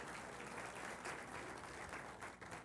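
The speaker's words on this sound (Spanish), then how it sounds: "Dele un aplauso." Applause from a church audience fills the space, a dense, continuous patter of many clapping hands, fairly distant and even throughout.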